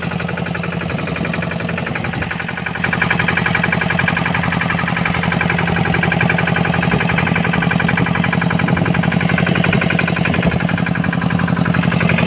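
A walk-behind tractor engine labours steadily while pulling an Italian plough through soil, a loud, continuous mid-pitched drone with a knocking pulse that swells a little louder after the first few seconds.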